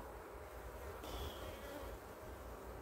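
Honeybees buzz steadily around strong, well-populated hives, a dense continuous hum close by with no talking.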